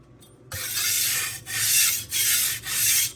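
Steel knife blade rubbed back and forth on a Suehiro Debado whetstone, four long gritty rasping strokes with brief pauses between, close and steady.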